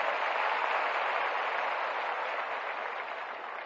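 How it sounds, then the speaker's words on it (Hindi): Sustained crowd applause for Bihar Police recruits at a ceremony. The dense, even clapping fills the space from start to finish and eases off slightly toward the end. "तालियां बजती रहनी चाहिए, तालियां बजाएं,"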